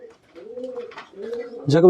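A Jacobin pigeon on a small hobby farm gives a soft, low rolling coo, two drawn-out phrases close by, ending in a louder burst as a voice begins to speak.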